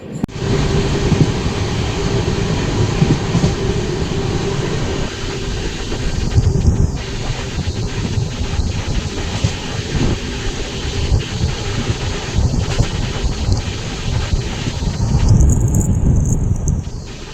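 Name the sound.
passenger train 02526 running on rails, Prayagraj to Hajipur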